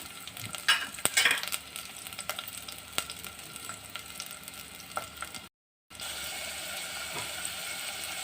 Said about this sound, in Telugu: ఇలా కొంచెం స్లోగా వేగుతాయండి ఫస్ట్ తర్వాత కొంచెం స్పీడ్ అవుతుంది